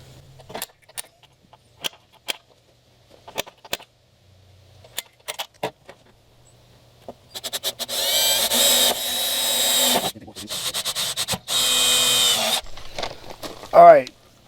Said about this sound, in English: let's use the punch